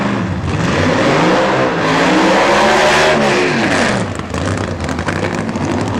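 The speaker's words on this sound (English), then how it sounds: "Chrysler heats the tires" A Chrysler Hemi drag racing car does a tire-heating burnout at a Super Stock reunion at Norwalk Raceway Park, its engine roaring loud and close with rising and falling revs throughout.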